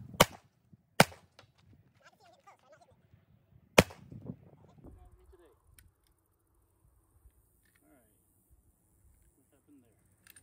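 A 9mm pistol fired at a shooting range: three sharp, loud gunshots, two close together near the start and another a few seconds later, followed by quiet handling noise and faint talk.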